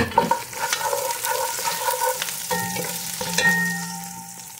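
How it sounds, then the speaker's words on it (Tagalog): Ginger, garlic and chili sauté in oil over high heat, a bright crackling sizzle with the scrape and clink of a spoon stirring the pan, close and busy throughout. "Pag nagisa ka na guys, kailangan naka-high heat tayo."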